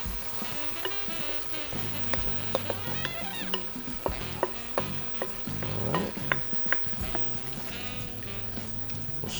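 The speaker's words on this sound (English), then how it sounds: "Stir that up nicely." Tomato and browned garlic pork gravy, made with two large cans of tomatoes, stirred in a pot: thick wet sloshing and spoon scrapes with clicks against the pot, close and continuous, a faint voice in the background.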